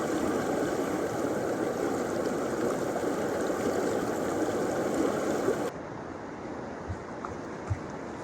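Close, steady rushing of river water dominates for over five seconds, then cuts to a quieter, thinner flow with a few faint knocks, on a winter riverside washing stop along Three Mile Stream.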